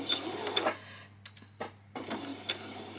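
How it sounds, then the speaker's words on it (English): A sewing machine back stitches the final stretch of a seam on a child's peasant top, giving short bursts of close mechanical whirring separated by brief pauses, with no voices present. "And then you can bring that back as a back stitch."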